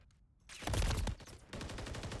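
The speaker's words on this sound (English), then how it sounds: "there's bullets showing up on my audio here, so you guys should be able to hear it now" Rapid automatic gunfire from an esports video game match in a women's circuit, loud dense bursts of shots firing back to back without pause.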